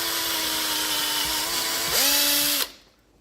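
A power sander with 120-grit abrasive cleans burrs off the back of a workpiece during a restoration, giving a steady, loud motor whine that shifts pitch briefly before cutting off and fading.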